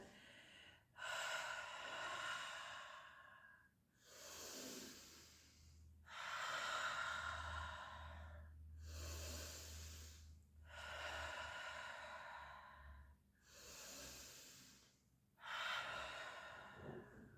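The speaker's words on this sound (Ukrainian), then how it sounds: "Видихаємо через рот." Slow, deep breaths exhaled through the mouth during a guided breathing exercise, about six long airy breaths in a regular rhythm, close and fairly quiet with no talking over them.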